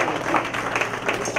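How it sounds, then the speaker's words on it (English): A brief burst of audience applause at a live comedy event: dense, steady clapping for just over a second. "Clap it up for Chris Clark."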